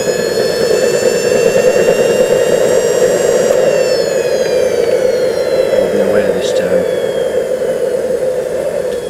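A Wren model jet turbine engine runs on its main fuel feed at an open day, giving a loud continuous whine and roar with a steady high tone that shifts slightly in pitch.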